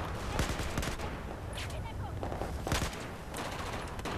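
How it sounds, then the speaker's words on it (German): Battlefield 4 gameplay with fairly quiet gunfire, a scattered fusillade of shots and short bursts over a steady battle din, with no talking. "Endlich mal wieder schießen."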